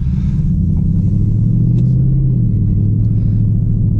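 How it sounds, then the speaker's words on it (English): A 2021 Ford Mustang Mach 1 pulls away from a stop, its low engine rumble rising in pitch and then dropping as it shifts gears, loud and close with no talk. "Setting off, it goes from first gear to third, which is pretty normal for fuel economy."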